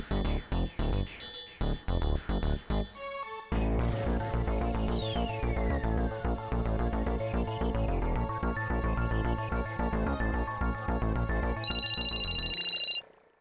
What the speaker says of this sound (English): my phone began to ring